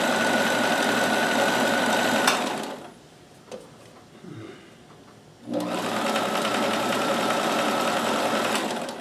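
A Kenmore 158.1914 sewing machine stitches fabric in two loud, steady runs close by, broken by a short pause with a few faint clicks and handling sounds in between.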